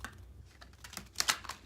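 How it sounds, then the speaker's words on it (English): A deck of tarot cards shuffled by hand, giving quick soft clicks and flutters close by, with a sharper burst of card snaps near the end. "I'm just shuffling a couple more times here."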